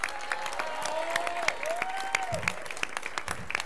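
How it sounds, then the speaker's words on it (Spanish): Scattered applause from a crowd at a political registration event for a presidential precandidate, with audible individual claps over a murmur, and a voice or tonal sound gliding through the middle. "les pido un aplauso, por favor"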